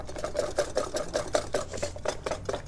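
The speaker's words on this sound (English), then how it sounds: "I need a whisk. And I'm just going to mix this really well." A whisk beats a flour mixture for fish chowder in a bowl, giving a fast, steady run of regular clicking strokes, close and fairly quiet, with no talking.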